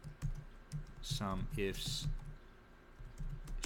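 Computer keyboard being typed on during a spreadsheet formula demonstration, soft scattered key clicks under a person's quiet speech in a still room.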